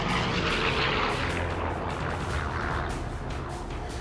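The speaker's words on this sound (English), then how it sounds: "I rolled the airplane over and stuck the nose straight down." A WWII fighter plane rolls over and dives nose straight down from high altitude, its engine and rushing air forming a loud sustained roar with a few sharp bursts that could be gunfire.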